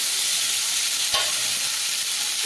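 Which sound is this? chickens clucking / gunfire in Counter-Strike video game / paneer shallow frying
paneer shallow frying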